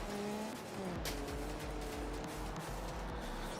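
Race car in the BeamMP driving game spinning out, with tires squealing and skidding across the whole stretch over a loud, continuous engine drone.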